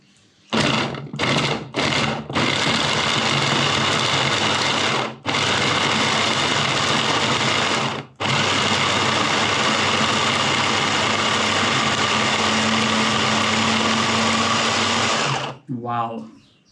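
A heavy electric motor chopper whirs loudly as it chops an onion, with a few quick stuttering bursts at the start, then long sustained runs broken by brief pauses.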